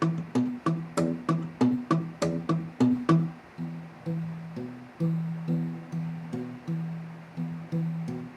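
Travis-picking bass line thumbed on a guitar's low strings, a steady alternating pattern of plucked notes, each ringing and decaying, played alone at an even moderate tempo, close and clear.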